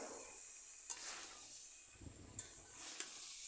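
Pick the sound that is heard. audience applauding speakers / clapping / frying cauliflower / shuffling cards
frying cauliflower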